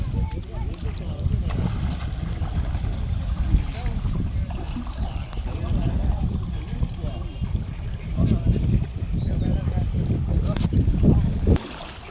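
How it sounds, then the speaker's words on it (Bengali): People wade on foot through deep floodwater, making continuous sloshing and swishing water sounds with rumbling wind noise on the microphone throughout. "পানির ভিতরে হাঁটতেছি আমরা"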